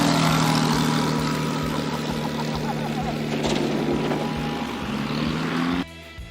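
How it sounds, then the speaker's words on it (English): A propeller plane attempts a hard landing on a road in strong winds, its engine droning steadily with wavering tones under rushing wind noise before the sound cuts off abruptly near the end. "trying to land in winds that are clearly more than the plane can handle."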